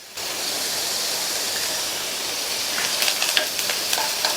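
Carrots and a small ball of tamarind sautéed in hot oil for a chutney, giving a steady, close sizzle with a few stirring scrapes near the end.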